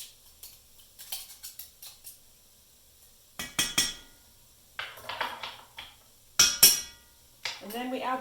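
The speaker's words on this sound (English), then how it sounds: "I'm going to crush about a third of them with my potato masher" Cooked beans for a vegan chili mashed in a pot with a metal potato masher, producing irregular clanks and soft squelching thumps, close by, with a voice talking intermittently.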